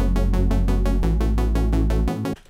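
A bright, buzzy synthesizer saw wave with lowered decay and sustain pulses out a quick arpeggio of evenly spaced notes over a deep bass tone, then stops abruptly.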